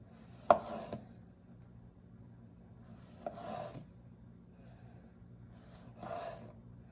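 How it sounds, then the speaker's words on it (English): A knife slices thin pieces of tomato for a sourdough focaccia in three separate short cutting strokes, each a soft scrape ending on the board, quiet and close, with no one speaking. "So I like pretty slim slices of tomato on my focaccia."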